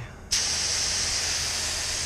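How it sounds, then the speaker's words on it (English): A paint spray gun bursts on with paint thinner, a sudden loud hiss after a brief quiet moment that then holds steady and close. "either way, there's your spray"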